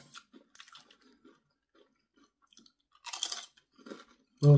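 Crisp crunching bites of a snack being chewed up close, in short bursts with quiet pauses, ending on a louder thump.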